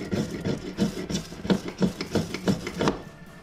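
Back of a knife blade scraped along an Armageddon FireSteel ferro rod, giving a series of close, dry rasping strokes in a steady rhythm, about seven scrapes in a few seconds.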